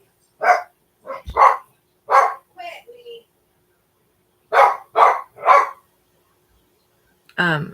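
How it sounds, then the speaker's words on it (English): Dogs barking at home, several sharp loud barks in separate clusters with quiet gaps between them, ending with a higher yelp, with no talking. "the dogs are going crazy."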